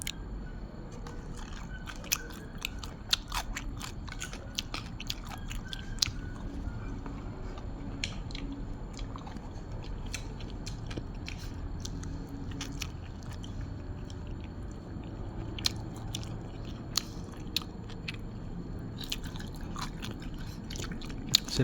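Someone eating Thai-style spicy pounded cucumber salad with grilled rat and rice, heard up close as a long run of crunchy bites, wet chewing and squishing under a quiet background.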